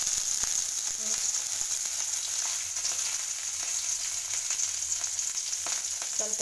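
Steady, crackling sizzle of onion and green chilli frying in hot oil in a pot, close and continuous, with occasional soft pops throughout.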